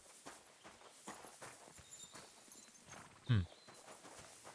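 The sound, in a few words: horse hooves clip-clop in video game Kingdom Come: Deliverance II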